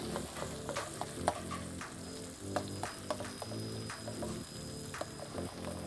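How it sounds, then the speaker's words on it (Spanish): Vegetables gently fry in a little oil, a soft steady sizzle with scattered crackles and pops, close and fairly quiet, with no talking. "dejamos que se poche bien"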